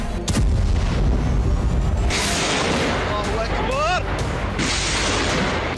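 Bombing in Syria: heavy, loud explosions and booming blasts roll in bursts over a sustained rumble, with sharp reports, whistling streaks and distant pops throughout.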